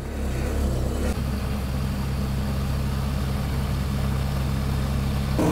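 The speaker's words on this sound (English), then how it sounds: "it is still idling too high" Citroen GTI 16V engine idling too high as it warms up, a steady, close, loud hum with no talk.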